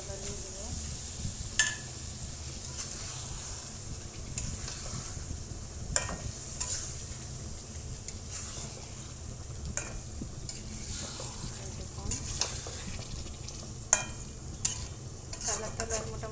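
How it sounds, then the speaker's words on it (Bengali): Meat pieces fry in cooked-down spice paste with oil rising on top: a constant sizzle with repeated spoon scrapes and occasional sharp clinks against the pan over a low background rumble. "মাংসগুলো দিয়ে দেবো"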